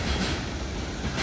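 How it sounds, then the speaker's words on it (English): A coal train rolls past on the railway, a loud steady rumble and clatter of wagons continuing throughout with no voices. "I'd say, 5th coal train we've gotten down here in 2 days."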